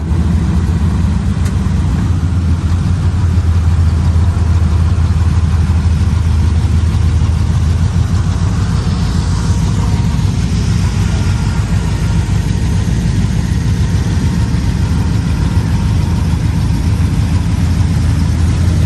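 A new Ford Bronco's engine runs steadily while the vehicle is loaded onto a trailer, a loud, close, continuous low rumble that holds even throughout with no talking.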